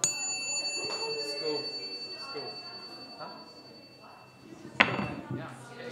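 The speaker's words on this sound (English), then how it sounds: "I'm going to open trading by hitting this gong." A gong struck once to open trading at a school event: one sharp, loud hit late in the clip that rings on over busy crowd chatter and clatter.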